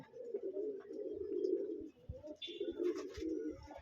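Racer pigeons in a home loft coo in low, rolling, throaty phrases, close and continuous, with a few faint chirps and soft thumps behind them.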